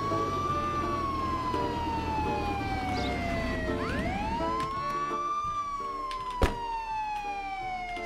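A police car siren in the video game Contraband Police wails up and down in long sweeping cycles over a rumbling engine, with a single sharp thump near the end.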